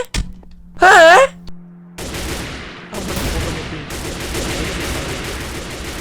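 Gunfire in a Minecraft parody game comes as dense, rattling volleys of shots, loud and continuous in the second half, after an earlier stretch of other sounds.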